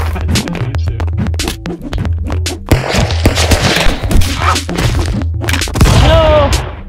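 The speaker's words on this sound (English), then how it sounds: "Oh, is it a real grenade launcher?" Rapid, punchy launcher shots and explosive bursts from the brawler game Stick Fight, a dense run of sharp cracks and thumps over busy game sound effects and music.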